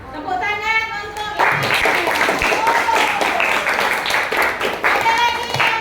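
Classroom applause from a group of schoolchildren, a dense burst of clapping that starts partway through and continues steadily, with children's voices mixed in.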